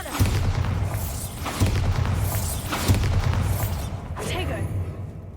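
Repeated booming blasts from the Bombarda explosion spell in the Hogwarts Legacy video game, four or five heavy thuds in quick succession with rumbling tails, loud and close over game sound.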